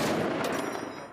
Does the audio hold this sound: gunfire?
yes